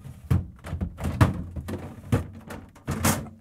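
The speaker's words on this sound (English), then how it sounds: "Next, we are going to pull out all the drawers" Drawers pulled out of a Samsung refrigerator, giving several close, hollow plastic thuds and scrapes in an uneven rhythm, fairly loud and with no talking.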